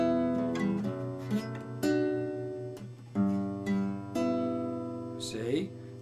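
Guitar strums a short chord progression, each chord ringing out in turn with clear attacks and sustained tones, close and fairly loud, with no talking over it.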